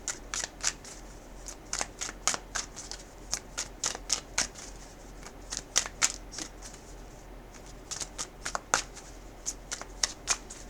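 A Ram Oracle card deck being shuffled, with repeated crisp riffling bursts of cards flicking together at an irregular rhythm, close and fairly quiet with no talk.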